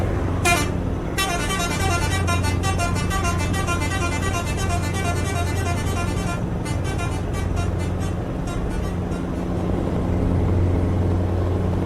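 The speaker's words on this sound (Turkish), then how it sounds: "Kornayı tekrar çalacağım." Scania R560 V8 truck horn in Euro Truck Simulator, blaring loud and almost continuously for several seconds, then in choppy bursts, all over a constant heavy engine drone.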